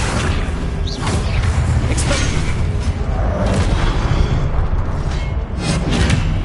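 Spell blasts in Hogwarts Legacy, including a Confringo explosion, arrive as a dense, loud stream of booms, crashes and shattering impacts over a constant rumble, with no pauses between hits.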